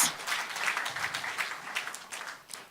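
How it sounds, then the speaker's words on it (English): An audience at the grand finale of the FIIRO House reality show gives a round of applause, with brisk, moderately loud clapping that holds steady for a few seconds. "Give yourself a round of applause."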